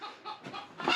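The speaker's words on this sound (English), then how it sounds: "I'm gonna bloody kill you, rooster" A rooster clucks in a few quick, close calls, bunched together and ending louder, beside a shed being fitted out.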